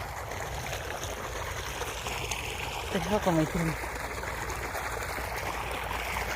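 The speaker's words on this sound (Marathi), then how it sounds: "तर हे बघा इथं आपलं पाणी पडतं आहे" Irrigation water pours into a fodder field in a steady, close rushing flow, with someone talking briefly over it.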